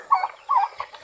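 Two short turkey gobbles from farm turkeys, quiet and brief, followed by a fainter trailing call.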